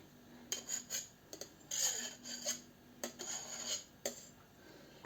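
A knife cuts 200 grams of cold butter into flour for soft budget cookies, in short scraping, rasping strokes with pauses between them, close and fairly quiet, ending in a sharp knock.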